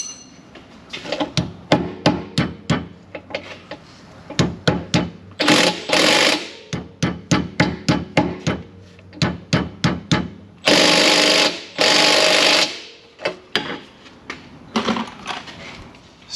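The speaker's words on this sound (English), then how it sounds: "Do I have to hammer it in?" A hammer drives a bushing into an Infiniti G37 rear differential, loud and close. The strikes come in rapid bursts of sharp metallic blows, broken by short pauses and a few longer harsh noisy stretches.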